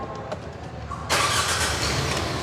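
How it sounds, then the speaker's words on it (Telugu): A Tata Curvv, a manual top-end variant, has its engine started in Hyderabad: quiet cabin noise, then a sudden crank catching into a steady, loud idle that carries on to the end. "ఒకసారి స్టార్ట్ చేసి వెహికల్ చూద్దాం"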